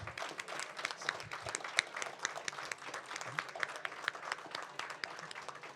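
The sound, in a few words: audience applause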